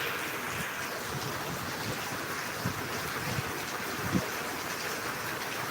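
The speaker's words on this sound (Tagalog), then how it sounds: "Oh, lakas na ulan." Heavy rain and strong wind, with a steady loud broadband wash of downpour and gusts buffeting the microphone, continuous for the whole stretch with a few brief thumps.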